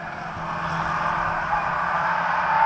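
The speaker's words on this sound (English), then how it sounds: "He really is moving well here, passing Kim Turner on the outside" Race cars roar around the Grimley Oval Raceway, a steady blended drone of engines at moderate distance with no clear single pass-by.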